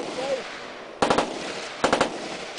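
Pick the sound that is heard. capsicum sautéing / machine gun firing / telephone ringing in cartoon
machine gun firing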